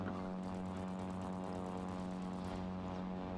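A steady droning airplane engine hum from the video game Crimson Skies, continuous and fairly loud, with a buzzing propeller-like tone throughout.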